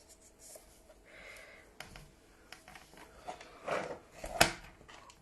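A pencil makes a registration mark on paper for a folding Christmas tree card, heard as soft close scratching strokes with light handling noises and a sharper stroke near the end, no talking.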